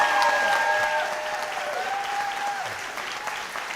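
Steady applause from a studio audience at a televised Ohio U.S. Senate debate in Cleveland, a dense continuous wash of clapping with faint tonal music underneath.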